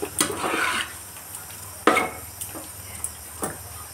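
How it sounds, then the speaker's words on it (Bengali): Meat being stirred and sautéed in a pot for biryani, the lid or pot clanking and a spoon scraping in a few sharp knocks over a low, steady cooking hiss, no talk. "দেখো মাংসটা আমার কষানো চলছে।"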